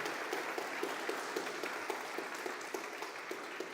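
A church congregation applauds in a steady, moderately distant wash of clapping, with brief louder claps standing out now and then, and no voices over it.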